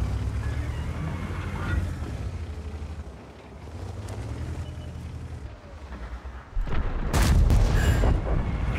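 Tank cannon shots from World of Tanks with a VZ 55, with loud booming blasts near the end after a low rumbling engine bed, and no talk.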